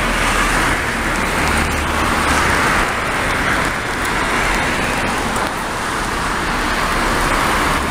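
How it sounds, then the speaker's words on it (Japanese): Steady, loud roar of traffic on a busy main road in a regional city centre, with a JR bus among the vehicles rolling past continuously, no talking. "あ、JR バス走ってますね。"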